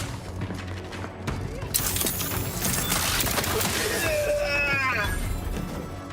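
Weapon gunfire in the video game The Outer Worlds 2, bursts of shots, booms and mechanical clatter mixed with game effects, with a voice talking over parts of it.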